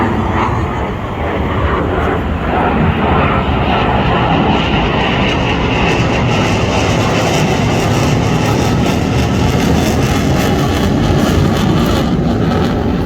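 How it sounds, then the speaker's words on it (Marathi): A continuous, loud jet engine roar from Indian Air Force Suryakiran fighter jets at a Marine Drive, Mumbai air show, broad and rumbling, with a steady wash of noise that never fades. "बघू शकता तुम्ही फायटर जेट पाहू शकता हे बघा फ्लाय ऑफ होत आहे"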